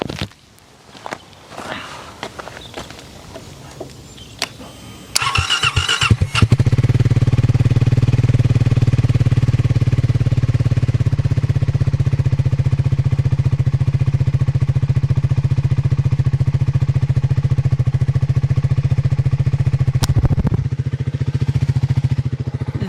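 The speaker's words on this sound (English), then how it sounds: "That is a nice sounding bike." Close to the exhaust, a Triumph Speed 400 motorcycle settles into a loud, steady idle with a throbbing low pulse. Several seconds of handling and shuffling noises come before the engine catches and runs to the end.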